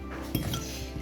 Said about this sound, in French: Et maintenant, je vais mélanger tout ça.